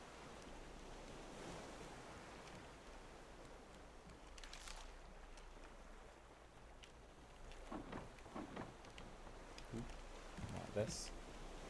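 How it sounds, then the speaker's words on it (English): Ocean ambience from the survival game Raft, a low steady wash of waves and surf under a few brief, faint splashes and clicks, heard at a constant quiet level with no voices. "Just the beautiful sounds of the ocean."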